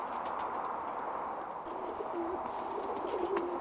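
Birmingham Roller pigeons coo inside a loft, a few soft low murmuring calls rising over steady background noise, moderately close, with no talking.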